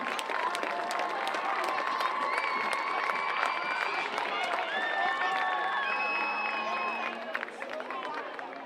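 Crowd at a high school homecoming football game, a steady wash of applause and cheering from the stands with whistles and shouts rising through it, loud and continuous before easing slightly near the end.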